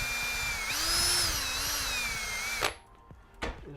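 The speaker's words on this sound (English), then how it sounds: "Use my little drill with the sandpaper end on it" A small handheld drill fitted with a sandpaper tip grinds epoxy out of a golf club head, a continuous high whine that rises slightly in pitch, then stops, followed by a brief second burst.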